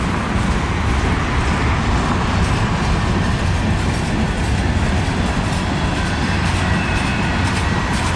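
A long, heavy Norfolk Southern manifest freight train hauled by three diesel locomotives rumbles past close by, a loud continuous roar of engines and rolling cars with steady wheel clatter.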